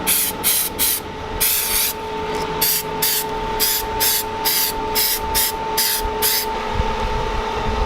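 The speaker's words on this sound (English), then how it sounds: "clean that one with the brake cleaner" Brake cleaner sprayed from an aerosol can onto an Audi VW 02J differential part during a limited-slip differential install: a dozen or so loud, close hissing bursts in an uneven rhythm over a steady workshop hum.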